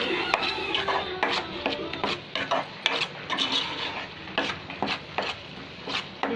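Chili powder being stirred into a prawn curry, with repeated scraping and knocking of a spoon against the pot over a faint sizzle, close and irregular in rhythm.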